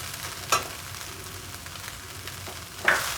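Grated coconut stirred into idli upma in a pan over a low flame, a soft steady sizzle with two distinct scraping clinks of the spoon, close and no talking.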